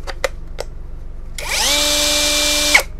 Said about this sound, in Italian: e il trapano funziona.